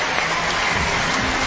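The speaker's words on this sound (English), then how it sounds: "Give her a round of applause." An audience applauds at a live paranormal investigation show in Portsmouth, producing a dense, continuous wash of clapping for a brief moment with no voices over it.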